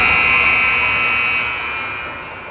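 Loud, sustained electronic buzzer sounding at the end of a sports game, holding steady for about a second and a half and then fading away, with no talk over it.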